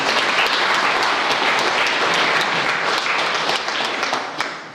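Crowd applause at a live-streamed Scariff Bay sports presentation, steady dense clapping from an audience that carries for several seconds and then tapers off near the end.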